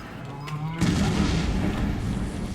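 A bomb blast in the video game Resident Evil 7 Biohazard, a sudden loud boom that rolls into a long rumbling roar for the rest of the moment.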